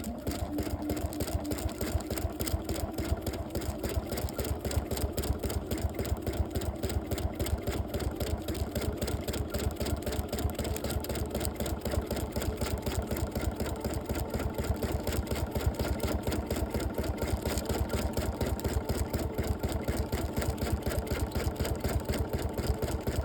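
Sewing machine stitching quilting rows across a quilt, a steady fast rhythmic motor hum and needle chatter running continuously and close up, with no talk.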